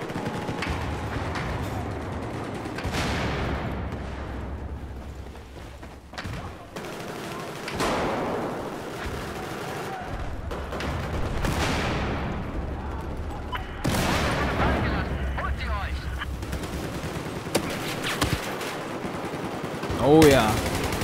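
Gunfire in Battlefield 4 multiplayer team deathmatch, several long bursts of rapid automatic fire and booming shots with roaring battle noise, loud and continuous, in waves through the whole stretch, with someone talking at times.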